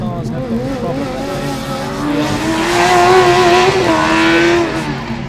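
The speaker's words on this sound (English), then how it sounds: "Number 67 coming around the last corner, so the Norwegian car" Car number 67, the Norwegian Formula Student race car at a Formula Student Germany autocross, comes round the last corner, its engine note rising loudly with tyre squeal, under a commentator's voice.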